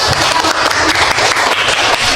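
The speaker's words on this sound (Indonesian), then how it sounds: "tepuk tangan untuk Lisa" A class applauds a student named Lisa, dense continuous clapping from many hands, loud and even throughout, with no one speaking.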